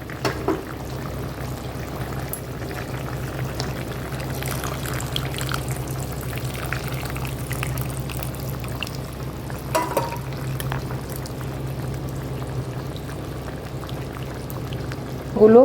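Strained white mustard paste, mixed with water, pours steadily into a pan of cooking fish curry, a soft continuous trickle and sizzle with a few brief clinks along the way.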